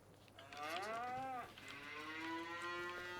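A cow on a farm moos twice, a long sliding bellow followed by a steadier drawn-out call, fairly close and clear against a quiet background.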